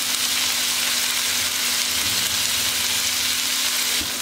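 Alexandrian-style liver frying in a pan and being stirred: a steady, loud sizzle of hot oil runs throughout, with scraping stir movements and a few soft clatters.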